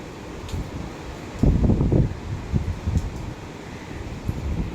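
Gusty hurricane wind from Hurricane Ian rushes past the microphone in steady low roaring waves, with a stronger buffeting burst in the middle and rustling surges afterward, no one talking.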